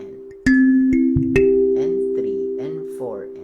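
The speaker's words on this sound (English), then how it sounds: "kalimba, 17 key kalimba standard tuning" A 17-key kalimba in standard tuning rings out with two or three plucked notes that sustain and slowly decay, while a person speaks over the lingering tones.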